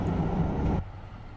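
A TGV Duplex high-speed train in Train Simulator 2016 rumbles along steadily with a low, continuous drone, then drops abruptly to a quieter hum partway through, with no voices.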